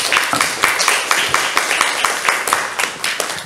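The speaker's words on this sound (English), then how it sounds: "So can we have a big round of applause, please, for Year 5 for Kaylee." Applause at a primary school assembly, a crowd of children clapping steadily and fairly near for a few seconds with no one speaking over it.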